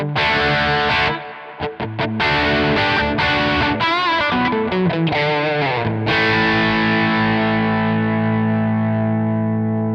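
Crunchy, distorted electric guitar chords from a Nano Cortex amp modeler with modulation off ring out loud, with several quick choppy strums in the middle before a long chord sustains and slowly fades.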